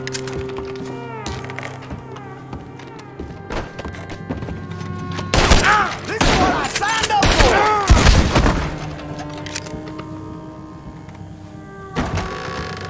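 Gunfire in the Red Dead Redemption 2 western game, a cluster of loud close shots and thuds mid-scene with ringing echoes, set against background music and occasional shouted voices.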